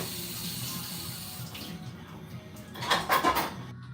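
An item used while brewing coffee is rinsed under a running tap, giving a steady close rush of water that swells into splashing near the end, with no voices.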